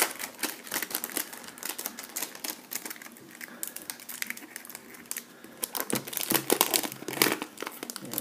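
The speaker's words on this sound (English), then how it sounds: "it does have the plastic all around, so we'll go ahead and get this out right now" Plastic wrap crinkles and tears as it is peeled off a new Kindle Paperwhite e-reader, a close, continuous run of dense rustling and crackling with sharp bursts, no talking.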